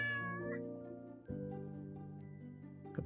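A pet cat meows close by in a long, drawn-out call that rises and then falls, with a second sustained meow right after it, sounding alone in a quiet indoor room.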